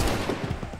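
A volley of musket fire in the video game Assassin's Creed 3 crackles as a dense, rolling burst of overlapping shots, loud and close, lasting under a second.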